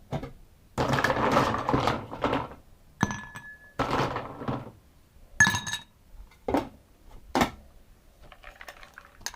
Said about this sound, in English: you want to strain it into your glass with ice